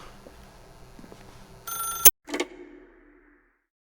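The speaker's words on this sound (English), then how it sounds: "If you can truly place your faith in another, then pick up the phone." Telephone rings in The Stanley Parable video game, a bright electronic ring burst that cuts off sharply, then a second shorter ring that fades into quiet.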